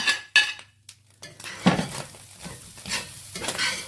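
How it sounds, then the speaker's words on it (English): Potatoes being stirred back into a pan of hash made with canned deer meat: a few scraping, clinking stirs of a utensil against the pan with a faint sizzle underneath, close and moderately loud. "now that it's done, we're going to add the potatoes back in"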